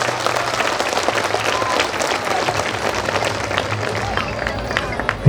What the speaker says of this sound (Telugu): మన పెద్దలకు ఒకసారి గట్టిగా చప్పట్లు కొట్టండి